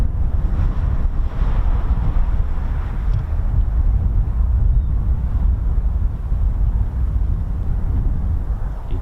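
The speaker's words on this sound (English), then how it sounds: "Now the wind is blowing very strong towards that runway caravan, literally in that direction, so very difficult to hear anything" Strong wind buffets the microphone at an RAF airfield beside the runway, a loud, continuous low roar and rumble with gusty fluctuations and no clear other sounds.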